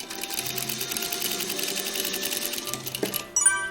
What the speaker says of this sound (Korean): 겉쪽 덧단을 몸판의 완성선과 맞추어 박습니다